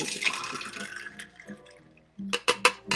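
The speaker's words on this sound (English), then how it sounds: "Okay, we're just going to pour this in." A zombie tiki cocktail is poured into a glass, giving a splashing liquid pour that stops and then resumes in short bursts, fairly close and clear with no talk over it.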